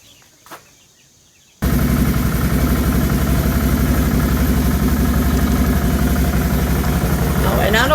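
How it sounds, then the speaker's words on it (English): A 6x6 ATV engine starts and runs steadily while riding to a farm barnyard, a loud, continuous mid-pitched drone with vibration, after a short quiet stretch with a brief knock at the start. "we'll move along to the barnyard via the ATV"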